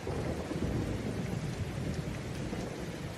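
Steady, loud rain pours without pause, with a low thunder rumble mixed into the dense wash of rainfall and no voices.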